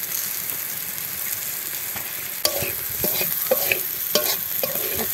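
Egg chowmein fries with a bright, steady sizzle in a pan with a pinch of chilli powder, and a utensil scrapes and clinks at intervals as it is stirred.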